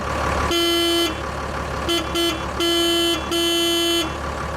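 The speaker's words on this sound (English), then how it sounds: "the funny part is how the horn sounds in the Unimog. Take a listen." A Mercedes Unimog U500 truck's high, thin horn honks in short bursts: a long toot, two quick beeps, then two more long blasts, loud and close.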